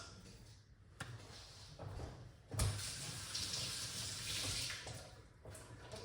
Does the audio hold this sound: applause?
no